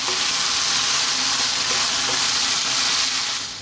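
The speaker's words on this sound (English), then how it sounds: "We're going to go for like 2 to 3 minutes, stirring away, getting our sauce in, on and around our pasta" Creamy bacon and pea pasta sizzles steadily in a hot pan while being stirred, a loud, continuous frying hiss with faint scraping throughout and no voices.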